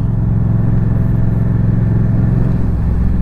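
A Yamaha FZ07 motorcycle engine idles steadily after being fixed, a loud, close, even low rumble that does not change over the few seconds, with no talking.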